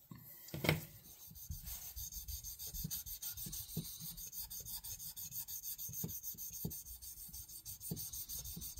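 Steady scratchy rubbing of 1000 grit sandpaper on a rusty Barlow knife, close and fairly quiet. Back-and-forth strokes continue throughout, with a few sharper scrapes and a knock near the start.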